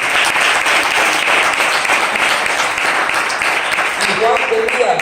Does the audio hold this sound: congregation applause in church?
yes